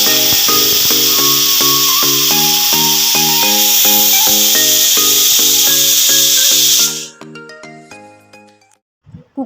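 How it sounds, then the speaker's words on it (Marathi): A pressure cooker of pav bhaji vegetables on medium flame lets out a loud, steady steam whistle and hiss for about seven seconds before cutting off, with a melodic tune playing underneath. "आता मीडियम फ्लेमवर 5 ते 6 शिट्ट्या देऊन घेऊयात"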